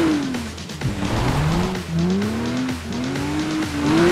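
A car is driven in the video game Need for Speed Rivals, its engine revving and wavering in pitch through gear changes while tires squeal. The sound is close and loud and continuous, with no talking.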